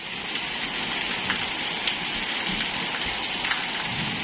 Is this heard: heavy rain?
yes